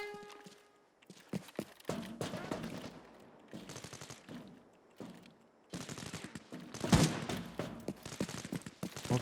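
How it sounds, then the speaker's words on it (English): Gunfire in the game Arena Breakout Infinite: sharp shots and short rapid bursts in clusters, with quieter gaps and shuffling footsteps between them. "What shots over there?"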